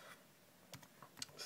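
A few quiet, scattered key taps on a laptop keyboard while entering a command, faint clicks in near silence with short pauses between them.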